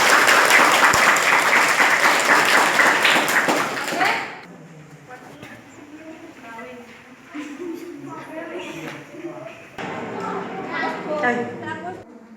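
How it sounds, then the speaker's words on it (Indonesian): A group claps loudly and steadily for about four seconds in a classroom-style session, then the applause stops and people start talking. "kita kasih applause dulu untuk Aldo sama Lola untuk pendapatnya"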